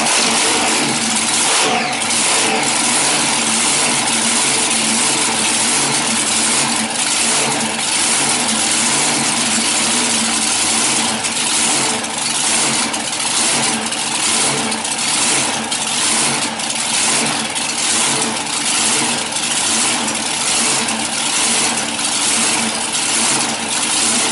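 A car engine runs loud and steady throughout, with repeated revving surges over a continuous mechanical drone and no talking.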